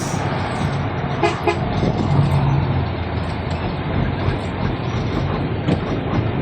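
A loud vehicle exhaust rumbles low and continuous in a busy early-morning street, with scattered knocks and brief horn-like tones mixed in.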